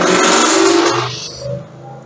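Motorcycle sweeping past close by, a loud revving roar that fades quickly as it moves away, leaving a low distant hum.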